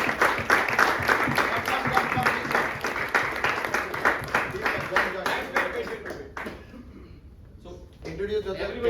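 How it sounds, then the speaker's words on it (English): An audience claps together at an awards night for snooker players, a dense, steady burst of applause that fades out, after which a voice speaks. "I want everybody to clap."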